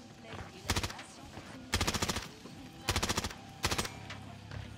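Bursts of automatic fire from a new weapon in a video game, four short rapid volleys spaced about a second apart, loud and close over a low background hum.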